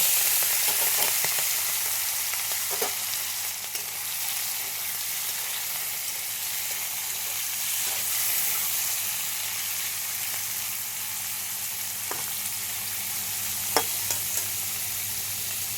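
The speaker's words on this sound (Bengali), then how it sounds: "তেলটা গরম হয়ে গেছে একদম। এবার চিংড়ি মাছটা হালকা ভেজে নেব।" Prawns lightly frying in hot oil, a continuous bright sizzle heard up close with occasional soft scrapes and taps from a stirring utensil.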